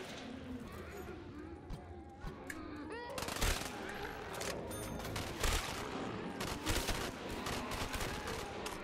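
Light machine gun fire in Black Ops 3 Zombies, dense bursts of rapid shots crackling through a busy, hectic game mix, with a person talking over the gunfire throughout.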